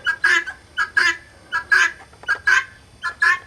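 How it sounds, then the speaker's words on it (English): Harsh, rhythmic bird calls repeating in quick pairs, loud and close, a steady chattering cadence of guinea fowl with no voices. "Those are guinea fowl, if you don't already know."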